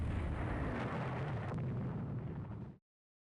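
Missiles striking a warship at night in the naval strategy game Rule the Waves 3: a sustained, roaring explosive rumble, dense and heavy at the low end, that cuts off abruptly into silence.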